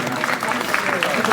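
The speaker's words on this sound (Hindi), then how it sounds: "इनके लिए जोरदार तालियां।" Applause for a guest at a school award ceremony honoring topper students, a short burst of crowd clapping mixed with a voice speaking over it.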